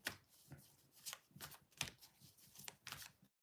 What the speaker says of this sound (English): I've already turned over a few cards for you